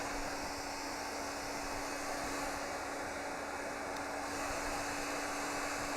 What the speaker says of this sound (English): The new Arojo blow dryer.